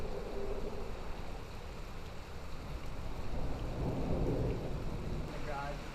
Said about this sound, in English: Yeah, it's starting to rain pretty good, man.